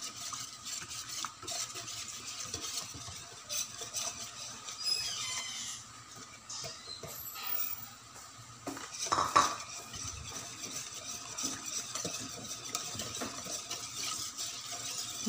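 A spoon scrapes and clinks around a pot while slowly stirring a kakanin mixture with annatto powder, steady close scraping with occasional sharper knocks against the pan's sides.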